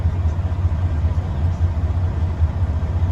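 A 2016 Western Star glider kit day cab truck engine idles just after starting, with a steady, loud low rumble and an even throb and no revving.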